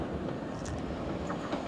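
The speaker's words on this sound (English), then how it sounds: "There we are, comes a train." A train pulls into a station island platform on a railway excursion to Brighton, its steady low rumble of wheels and carriages filling the scene, with faint higher squeals near the end and no talking.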